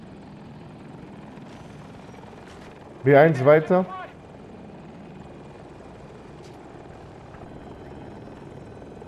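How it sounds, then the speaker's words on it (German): A KA-520 Super Hokum attack helicopter killstreak in a shooter game on the Hourglass map hums as a faint, steady rotor drone throughout, interrupted briefly by a short spoken callout. "Okay, Heli kommt, glaube ich."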